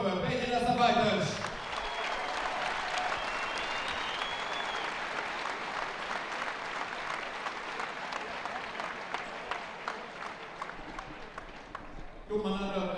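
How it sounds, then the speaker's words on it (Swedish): Warm applause for both fighters at a Zone FC MMA event fills the arena, a steady dense crowd clapping that swells and carries on for about ten seconds, with a voice on the loudspeaker before and after. "får jag höra en varm applåd för bägge dessa fighters"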